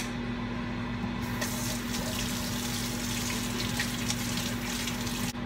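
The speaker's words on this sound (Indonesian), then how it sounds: "Saya cuci tangan dulu nih." A kitchen tap runs in a steady, continuous stream while hands are washed during cooking, with no talking.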